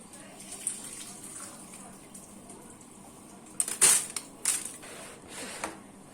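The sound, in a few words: draining water from soaked rice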